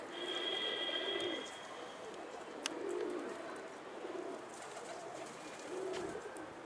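Pigeons coo softly in repeated low phrases at a moderate distance, with faint outdoor ambience and a brief click between calls.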